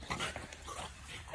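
Pet dogs whimper and whine softly in a noisy outdoor setting, faint high cries over broadband background noise, with a voice nearby.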